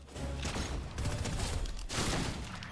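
Sniper rifle gunfire in Fortnite, heard as a few loud, sharp broadband cracks spaced about a second apart, each trailing into dense rumbling game noise with no voice over it.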